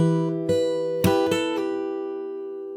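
An acoustic guitar, fingerpicked, plays a quicker take on a song, a handful of bright plucked notes in close succession ringing over a sustained low chord, then fading out alone.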